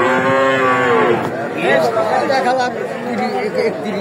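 A cow moos loudly and close by at a crowded livestock market, one long drawn-out low call, over steady chatter from people nearby.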